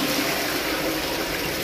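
An old toilet in an outback dunny flushes with a loud, steady rush of water filling and draining, continuous throughout and with no voices.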